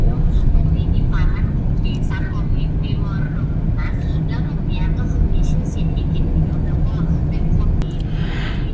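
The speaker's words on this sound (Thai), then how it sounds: "เราก็ ขับรถเข้าไปในเมืองอีกรอบหนึ่ง" Car driving into Buriram town in Thailand, a steady continuous rumble of engine and road noise throughout, with someone talking over it.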